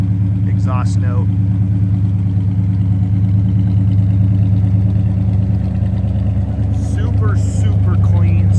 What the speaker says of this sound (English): Nice period correct exhaust note.